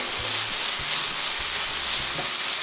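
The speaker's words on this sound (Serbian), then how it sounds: "I sad zavisi isto koliko dugo želite da pržite, kako želite da vam bude mekano povrće" Vegetables fry in a pan with a steady, even sizzle and hiss, while a few low humming tones come and go underneath.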